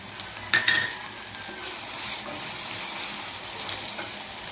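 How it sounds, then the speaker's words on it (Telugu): Fish pieces frying with masala in a pan give a steady close sizzle with a brief louder burst of stirring near the start, then settle into continuous hiss. "పచ్చి మసాలా తగినంత సాల్ట్ పచ్చివాసన పోయేలా వేపుకోవాలి"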